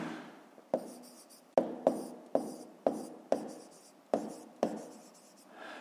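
Pen or pencil strokes on paper during a 5th-grade math lesson on the forest-steppe share of Ukraine's territory: about eight distinct taps at uneven intervals, close and clear, with no talking.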